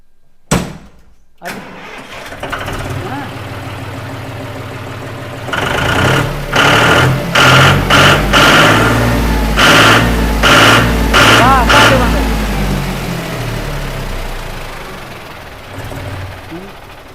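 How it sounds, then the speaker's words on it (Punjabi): A tractor engine cranks and catches, then runs with a loud, rumbling idle and several revs. Voices talk nearby. "ਟਰੈਕਟਰ ਨੂੰ ਸਟਾਰਟ ਕਰ ਲਓ ਜੀ"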